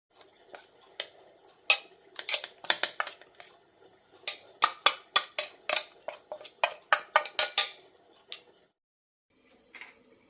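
Beetroot salad being mixed in a bowl with a spoon gives a rapid series of close, crisp clinks and scrapes in uneven bursts. A short pause is followed by a few faint final taps.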